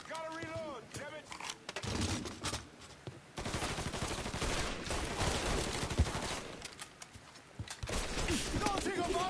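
Gunfire in the video game Mafia 3 rattles in loud bursts and volleys through a busy, chaotic firefight, with voices shouting over and between the shots.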